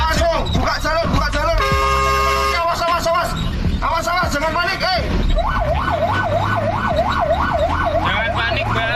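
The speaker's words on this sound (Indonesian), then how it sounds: "Mobil bersirine dan membunyikan klakson agar kendaraan yang berhenti memberi jalan mobil damkar." A fire truck's wailing siren rises and falls repeatedly amid loud, busy street traffic in Indonesia, with horn blasts and crowd chatter mixed in.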